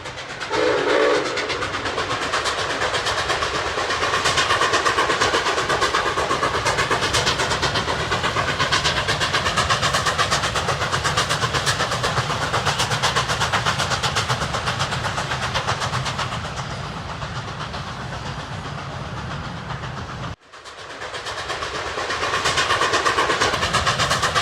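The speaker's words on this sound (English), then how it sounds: "about to see an amazing steam engine." A Nickel Plate Road steam train rumbles past with a rhythmic clatter of wheels and long, loud whistle blasts, the sound sustained and close throughout.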